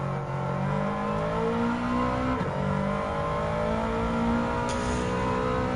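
A 4WD race car engine in Gran Turismo 7 whines steadily and drops in pitch as it downshifts, then holds a sustained loud drone on track.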